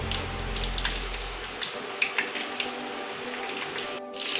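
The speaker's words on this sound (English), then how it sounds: "We'll drain out the excess egg and put it inside the oil." Egg-dipped fries go into hot oil, giving a low bubbling rush that drops away, then a steady soft sizzle with scattered small crackles and pops.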